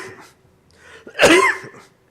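A single dry cough bursts out close and fairly loud, with faint breathy throat sounds before and after in an otherwise quiet indoor setting.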